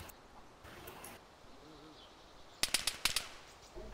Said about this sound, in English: Automatic shots.